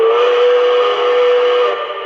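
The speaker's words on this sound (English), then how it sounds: "Here's the whistle." A K-Line 2-8-2 toy train locomotive sounds its electronic steam whistle, one loud, sustained tone that holds steady for about two seconds before cutting off.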